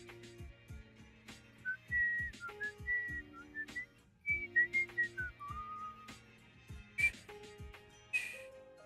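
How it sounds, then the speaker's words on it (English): Someone whistles a wobbly, unsteady tune with short, uneven notes and breaks between phrases, the pitch wavering and sometimes cracking into breathy squeaks; the whistling is quiet and close, with no talking over it. "my whistling sounds so bad"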